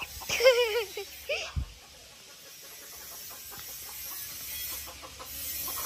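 A hen clucks and squawks loudly near the start with a few sharp calls, then outdoor background noise follows.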